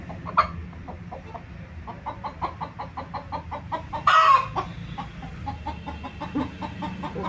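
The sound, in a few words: chickens clucking in a coop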